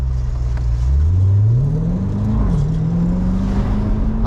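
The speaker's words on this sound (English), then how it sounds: "Them downshifts be sexy." A C8 Corvette's engine revs up and drops through downshifts while speeding through Beverly Hills, loud and close, its pitch rising, dipping and climbing again in a throaty, continuous roar.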